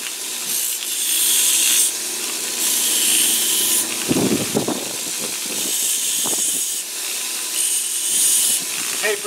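Belt sander grinding down the tapered ends of knife handle scales, a loud steady whir with gritty hiss, interrupted around the middle by a few brief pauses and bursts of contact before resuming.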